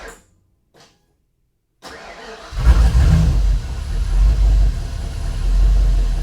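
A Ford F-150 pickup's engine cranks after a quiet pause, catches and roars to life, then revs loudly and settles into a rough, heavy idle, close and dominant.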